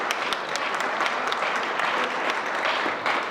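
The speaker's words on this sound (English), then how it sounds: "Clap it up for that, man." An audience at a young men's leadership conference claps, a dense, steady burst of applause that fills the room evenly from start to finish.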